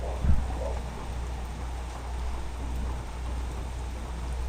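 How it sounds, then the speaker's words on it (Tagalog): Heavy rain falls steadily during a typhoon while farmers plant outdoors, a constant broadband hiss with a brief louder patter near the start. "Malakas ang ulan eh."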